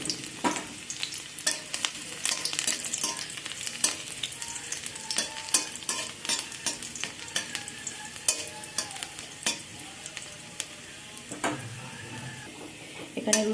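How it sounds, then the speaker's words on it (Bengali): Chopped garlic, three or four cloves, sizzles in hot oil for a Bengali hand-mashed masoor dal, with a steady frying hiss broken by repeated sharp scraping stirs of a spatula against the pan, close and alone. "এখন তেলের মধ্যে দিয়ে দেব কিছু রসুন কুচানো"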